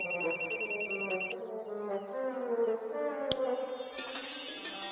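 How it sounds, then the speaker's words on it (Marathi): A telephone bell rings in repeated electronic bursts at first, then fades under a domestic TV drama's background music, with a sharp click and a new higher tone near the end. "उचलत नाहीये का फोन?"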